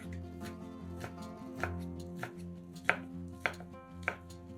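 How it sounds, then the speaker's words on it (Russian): A knife cuts strips of liver pancake crosswise into smaller strips on a cutting board, making a handful of crisp, irregular taps over soft background music. "Получившиеся полоски нарезаем поперек на более мелкие полоски."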